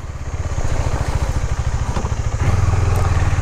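A KTM Duke 390 BS6 motorcycle rides slowly off-road, its single-cylinder engine thumping in a close, rapid pulsing rhythm that swells louder near the end.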